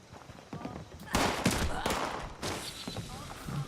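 Turret gunfire in Fallout 76, sharp bursts of rapid shots and crackling volleys that swell and fade, fairly close, with a voice speaking at moments.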